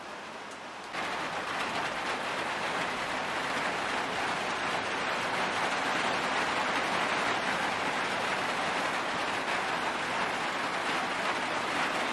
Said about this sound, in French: on vient de se faire prendre par une de ces sales averses